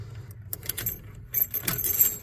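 A freshly cut ignition key for a 1985 Ford jingles and scrapes as it is handled and pushed into the ignition, a few close metallic rattles and clicks in short bursts.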